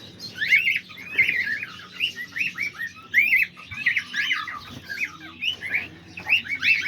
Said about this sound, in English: all the cockatoos, they're all doing good, just hanging out, just being birds